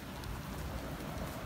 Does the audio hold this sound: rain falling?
yes